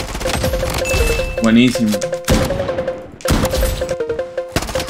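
Rapid bursts of P90 submachine gun fire from a video game shooter crackle in quick runs of sharp clicks, mixed with other game effects while someone talks excitedly over them.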